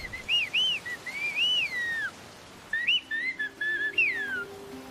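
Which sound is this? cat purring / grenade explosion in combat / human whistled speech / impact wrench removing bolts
human whistled speech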